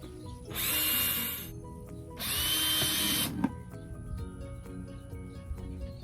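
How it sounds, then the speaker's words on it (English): A power drill drills a drain hole in a plant container in two bursts of about a second each, separated by a short pause, with quieter clatter and faint chirps between. "have a drill with a bit."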